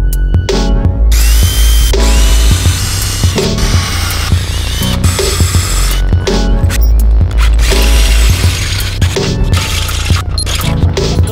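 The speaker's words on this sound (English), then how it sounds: "Come on, drill a hole." A loud power drill runs in repeated bursts, revving and stopping several times as it bores a hole, close and harsh.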